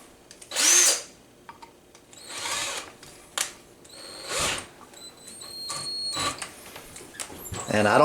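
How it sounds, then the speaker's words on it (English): A power drill lapping valves on a Ford 390 cylinder head whirs in several short bursts, starting and stopping with brief pauses, fairly close, with some low background handling noise. "I use a drill."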